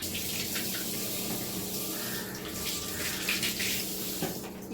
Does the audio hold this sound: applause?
no